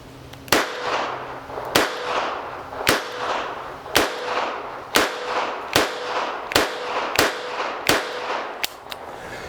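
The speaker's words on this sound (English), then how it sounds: "I got 9 more rounds loaded up in the Taurus Model 94, and we're going to go ahead and do double action center mass on the silhouette target" Taurus Model 94 .22 LR revolver fired double action at a target, nine sharp cracks in a steady rhythm about a second apart, each followed by a short echo outdoors.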